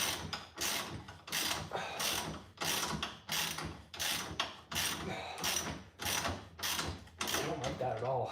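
Rapid bursts of ratchet clicking come from a wrench turning a long bolt on a Nissan Z in a garage, repeating in even strokes about every half second, close and clear with no talk.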